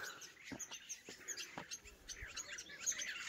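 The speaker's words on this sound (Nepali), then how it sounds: "चराहरू पनि यहाँ गीत गाउँदैछ हौ बिहान बिहानै।" Birds chirping and singing in the early morning during a morning walk outdoors, a faint busy chorus of overlapping tweets with soft background noise and no talk.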